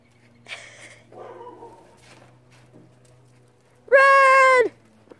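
A neighbor's dog outdoors gives one loud, drawn-out, tonal bark near the end, after a few fainter yips and rustles against a quiet background.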